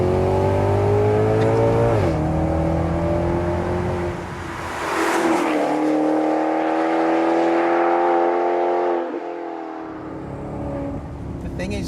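A Maserati GranCabrio Sport engine accelerates hard in sport mode with manual selection, a loud continuous rising and falling roar with gear-change dips, close and dominant throughout.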